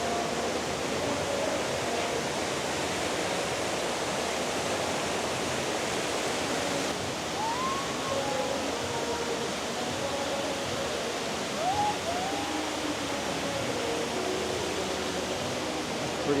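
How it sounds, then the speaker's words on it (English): Steady, rushing water from an indoor waterfall in a Las Vegas casino shop fills the space, a constant broadband wash with a few faint chirps and tones drifting over it. "They got waterfalls. Who builds a waterfall? 3 to 4 waterfalls in a shop."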